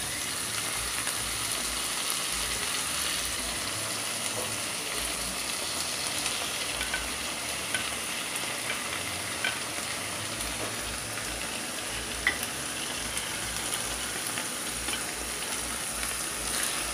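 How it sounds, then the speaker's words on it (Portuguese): Peeled, cleaned shrimp seasoned with salt, lemon and olive oil sizzle in a hot pan, a dense, steady frying hiss with scattered small pops, continuous and fairly close with no talking. "eu vou acrescentar o camarão. E no camarão eu já coloquei sal, limão e um pouco de azeite"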